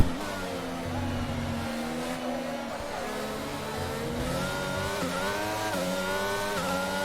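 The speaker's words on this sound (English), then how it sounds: "I am wheel spinning out of corners." An F1 car in the video game F1 22 spins its wheels out of corners, a loud, continuous high-revving engine roar whose pitch climbs and dips as the car accelerates, close and steady throughout.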